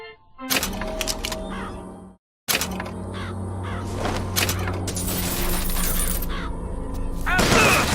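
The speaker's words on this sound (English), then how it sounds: "Press to summon murderous crows." Murderous crows summoned in the video game Bioshock Infinite caw harshly over dense game effects and clatter, broken by a brief silent gap before the commotion resumes and builds.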